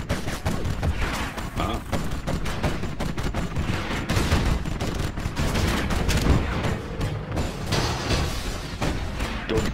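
Quad cannon fire in Command & Conquer Generals Zero Hour rattles out as a dense, rapid chatter of shots that never stops, loud and close, with occasional heavier thumps mixed in.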